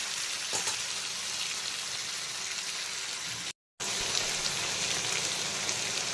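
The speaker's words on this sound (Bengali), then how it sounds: "চিংড়িগুলো দেওয়ার পরে 2-3 মিনিট সময় নিয়ে ভেজে নিলাম।" Shrimp frying in a pan for a Malabar spinach and poppy seed dish gives a steady, dense sizzle throughout, close and even, with a short break partway.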